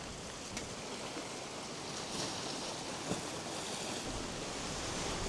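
Sea wind and waves along an island sea walkway on a blustery coast: a broad, continuous wash of wind and surf, fairly faint and steady, with a few soft gusts and brief knocks.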